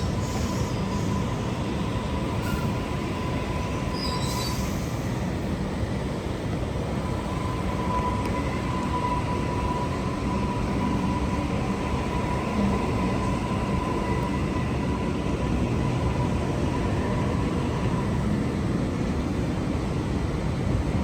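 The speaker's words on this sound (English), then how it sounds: "this Waratah is shifting out of the way so we can have a look at what's happening over there" A Sydney Trains Waratah electric train pulls away from a platform at Sydney Terminal, a steady rumbling roll with a faint motor hum heard at moderate distance, no voices.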